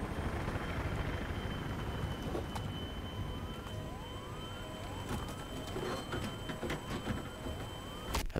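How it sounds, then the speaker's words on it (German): A crashing helicopter in the video game Battlefield 3 drones loudly and steadily, with repeated rising whines sweeping over the rotor noise and a few sharp clicks and bangs near the end. "Oh, der Heli stürzt ab, Alter."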